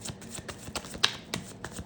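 A deck of tarot cards being shuffled, with soft riffling flicks and light taps repeating in an uneven rhythm, quiet and close.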